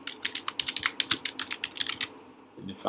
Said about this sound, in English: So let's type in Jennifer